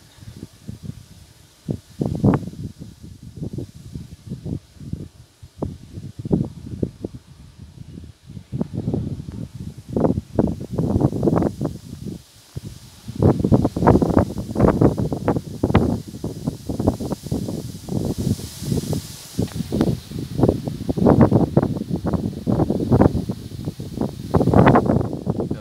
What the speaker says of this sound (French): Oh mamma mia, le vent qui arrive encore.